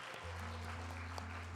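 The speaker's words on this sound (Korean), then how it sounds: "박수." Faint scattered applause from a church congregation at a Sunday service, heard softly at a distance over a low steady hum.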